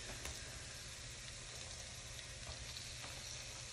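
Sliced peaches cook in a pan for a spicy peach glaze, giving a steady, close frying sizzle with faint stirring that holds evenly the whole time and no voices.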